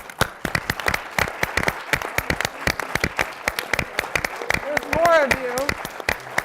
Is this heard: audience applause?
yes